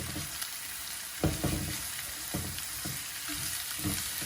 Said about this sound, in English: With this subtly sauteed and the leeks getting that beautiful luscious green that comes about with sauteing them